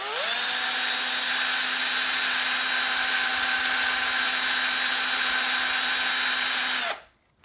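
A small rupee coin ring spins on a rotary tool while 220-grit sandpaper cleans its edge, giving a steady high whine with a strong constant tone that runs unbroken for about seven seconds, then cuts off abruptly.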